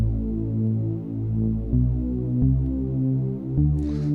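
A detuned, low-pass-filtered synth bass from an Ableton remix plays alone, droning in steady sustained notes with a throbbing, wavering tone and shifting pitch about every 0.7 seconds.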